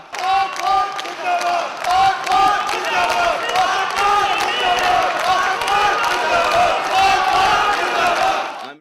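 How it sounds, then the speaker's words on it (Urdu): An overseas Pakistani crowd at a rally loudly chants patriotic slogans, a dense, continuous roar of many voices rising in rhythmic bursts with scattered clapping throughout. "اوورسیز پاکستانیوں کی جانب سے پاکستان زندہ باد اور پاکستان کا مطلب کیا کہ ولولہ انگیز نعرے گونجتے رہے"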